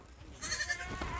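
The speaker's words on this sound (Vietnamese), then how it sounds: "Ôi, dê con kìa." A baby goat gives a short, close bleat in a goat pen where the animals are fed squash, with low background rumble around it.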